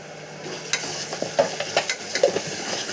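Ginger and turmeric stirred in a hot frying pan, with a steady oil sizzle beneath irregular scraping and tapping strokes of a spoon, close and clear with no talking.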